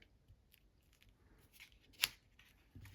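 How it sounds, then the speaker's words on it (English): Scissors snip through paper while junk journaling, a few faint quiet cuts with one sharp close snip standing out, no talking. "I think what I do is I cut this."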